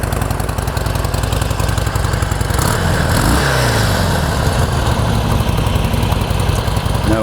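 A Harley-Davidson Sportster 1200 motorcycle with factory exhaust idles nearby in a steady, loud, even putter with no talking.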